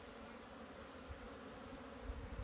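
Honey bees buzz faintly around their hive on a winter day, a soft, steady insect drone heard outdoors at a distance with no talking.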